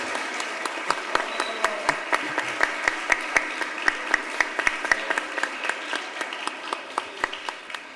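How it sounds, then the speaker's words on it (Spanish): Audience applause at a Spanish-language talk on reading, letters and pedagogy honoring Diego Aristizábal, a steady patter of many hands with sharper individual claps standing out, moderately loud and sustained throughout. "Quiero que le regalemos un aplauso"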